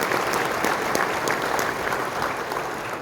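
Steady, dense applause from a conference audience thanking district volunteers, many hands clapping evenly at moderate loudness throughout without a break.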